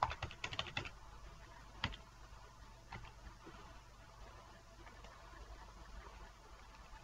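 Typing on a computer keyboard: quick clusters of close, crisp key clicks at the start, then sparser, fainter taps spread over a quiet background.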